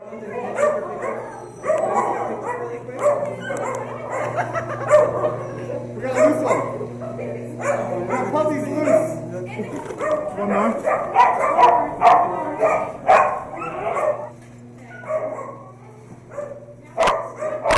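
Rescued puppies barking and yipping in short, repeated bursts, mixed with whimpers and steady overlapping talk close by.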